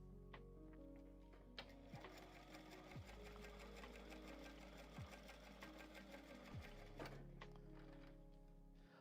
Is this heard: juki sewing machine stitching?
yes